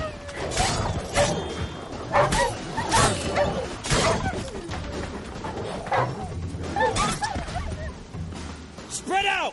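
Dogs bark in The Witcher 3 game amid a chaotic fight, with yips and whimpers among crashing effects and frequent shouted talk over the top.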